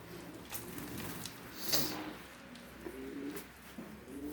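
Pigeons coo softly in low murmuring phrases, several overlapping, with faint rustles and a brief flutter in a quiet enclosed space.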